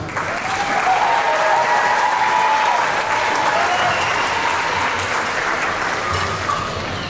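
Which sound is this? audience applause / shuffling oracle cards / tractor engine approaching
audience applause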